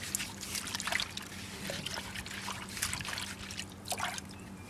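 Water sloshes and trickles in a gold pan as a crushed ore sample is panned, with soft repeated swirls and splashes rising and falling over a few seconds.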